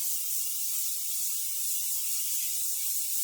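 An airbrush sprays silk moisturizer during a custom spray tan, giving a steady, close, soft airy hiss with an even level throughout.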